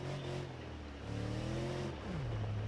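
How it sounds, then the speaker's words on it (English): A truck engine in the driving game BeamNG revs hard and holds high, a loud, continuous roar whose pitch rises, sustains, then drops as the revs fall away. "Try not to over rev the engine too much."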